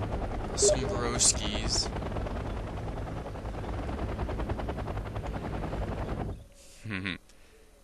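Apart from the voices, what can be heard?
recon helicopters in video game Wargame: European Escalation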